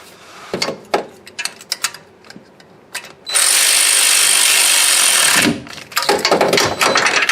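A ratcheting tool tightens the starter bolts on a Ford Mustang V6, first with scattered clicks and taps, then a loud sustained whirring burst of a few seconds, followed by more rapid clicking.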